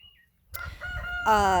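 A rooster on a ranch crows loudly and close by after a brief quiet moment, with a few short clucks leading into the drawn-out call.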